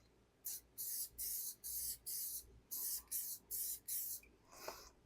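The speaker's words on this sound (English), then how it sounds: "I'm gonna spray both sides." Aerosol adhesive sprayed onto Toyota Camry center console upholstery in eight short, even hissing bursts close by with brief gaps between, then a weaker sputter at the end.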